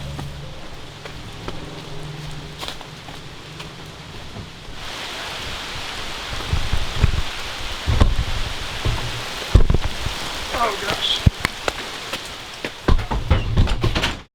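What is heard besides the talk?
rain falling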